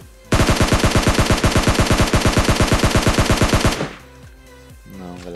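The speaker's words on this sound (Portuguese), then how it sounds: "Tentar atirar pra ver?" A rapid burst of automatic gunfire from PUBG Mobile, dozens of evenly spaced loud shots in a sustained stream lasting about three and a half seconds, then cutting off into quieter game ambience.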